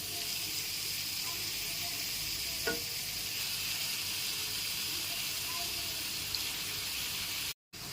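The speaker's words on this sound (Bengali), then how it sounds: "এরপর এর মধ্যে ম্যারিনেট করা চিকেনের টুকরোগুলোকে দিয়ে দিচ্ছি" Yogurt-marinated chicken pieces hit a hot pan of cooked-down spices and give off a continuous hissing sizzle with a brief clink midway, cut off by a short silence near the end.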